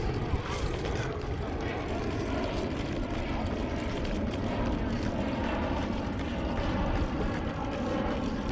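A loud, steady jet engine roar from a plane taking off near a beach by El Segundo fills the whole clip, a broad rumbling wash that stays constant without fading.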